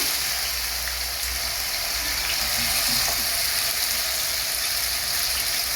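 Marinated chicken with cumin, seven spice, soy sauce and pomegranate molasses frying in oil, a loud continuous hiss and crackle that holds steady throughout.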